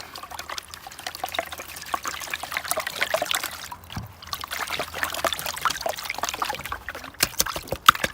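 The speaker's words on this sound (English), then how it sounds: "Throwing that water up there." Water splashes and trickles in a steady stream while gold prospecting, pouring and dribbling nearby with small irregular splashes throughout.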